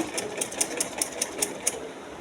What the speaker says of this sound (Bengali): এইভাবে করে একটা চাপ সেলাই দিয়ে নেব